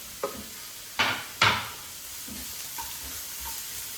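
Omelette ingredients get mixed in a bowl: a few sharp clinks and scrapes of a utensil, the two loudest close together near the start, then softer stirring taps, with no talk.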